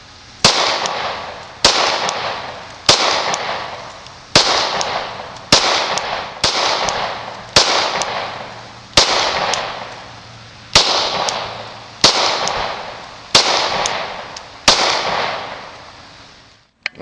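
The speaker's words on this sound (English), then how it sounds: "This is about 15 yards, and it was pretty rapid fire." Rapid fire from a Glock 23 compact .40 S&W pistol at an outdoor range, about a dozen loud, sharp shots evenly spaced roughly a second apart, each with a ringing decay, no talk.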